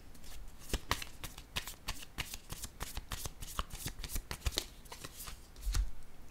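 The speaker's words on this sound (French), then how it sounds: "je vais déposer une carte sur celle-ci" Tarot cards handled and laid one on another, giving a quick run of crisp papery slaps and flicks that repeat close and fairly loud for several seconds, with no talk.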